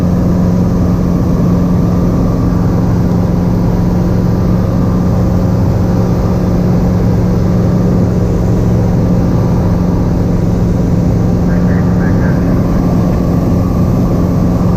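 A small airplane's engine drones steadily and loudly from start to finish on landing approach, a constant low hum with rushing air and no pauses.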